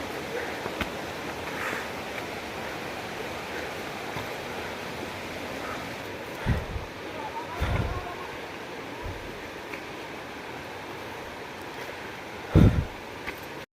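Steady rushing water from Khajuribani Waterfall in a forest in Keonjhar, Odisha, a constant broadband wash at moderate distance, broken by a few brief thumps and knocks.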